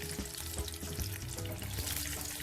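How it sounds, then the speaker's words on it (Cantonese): Lion's head pork meatballs deep-fry in hot oil, a dense, continuous sizzle and crackle close up, with faint low bubbling throughout. "炸到呢個獅子頭金黃咧"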